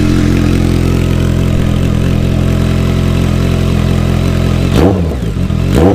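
A BMW K1200R Sport motorcycle fitted with a Dekevic 8-inch stainless performance exhaust idles with a loud, steady, deep rumble, then gives two short throttle blips near the end.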